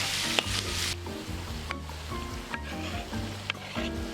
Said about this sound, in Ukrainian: І вже на повільному вогні обсмажуємо.